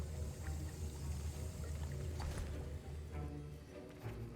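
Thick liquid being stirred in a cauldron during a Hogwarts Legacy potions class, with a soft continuous sloshing and swirling that stays low and steady, plus a few brief clinks near the middle.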